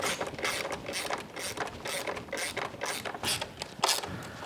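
Ratchet wrench tightening bolts on a Honda Grom motorcycle engine during a top end build: steady, rapid close-up clicking that repeats throughout.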